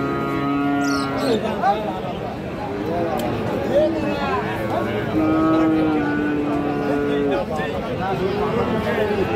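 A crossbred bull calf at a cattle market in Raniganj gives repeated drawn-out moos, with other cattle and people talking nearby throughout.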